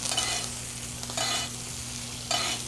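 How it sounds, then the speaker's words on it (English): Steak basting in browned butter in a pan, a steady close sizzle that swells in three brief surges as the hot butter is spooned over the meat. "So we're gonna go through and just baste it again before we remove them from the pan."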